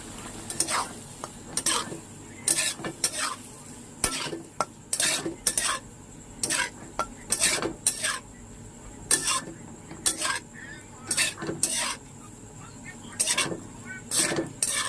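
Chilli garlic pasta is stirred in a pan over a high flame, with a spatula scraping in a steady, repeated rhythm of sharp strokes roughly twice a second against a faint background sizzle.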